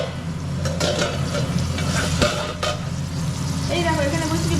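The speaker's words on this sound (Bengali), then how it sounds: "এটা হলো কাঁকরোল ভাজা, এটা হোক আস্তে আস্তে" Spiny gourd (kakrol) slices frying in a pan, a steady close sizzle with stirring clatter and occasional utensil scrapes running through the whole stretch.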